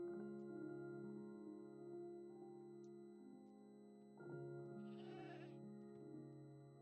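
A goat in a video game lets out long, wavering bleats, a pair of drawn-out calls with a rough rise partway through, faint and clear with no voices over them.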